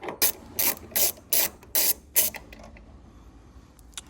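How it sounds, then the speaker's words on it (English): Quarter-inch ratchet with a swivel and 10mm socket backing out a door bolt on a 1999-2007 Chevy Silverado, giving six quick bursts of close, crisp clicking in an even rhythm before falling quiet. "grab your 1/4" ratchet along with a swivel and 10mm right here, and then we'll just take this off"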